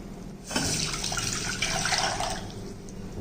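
Water pours steadily into a metal pan for cooking ragi kali, a continuous splashing rush lasting a few seconds with no talking.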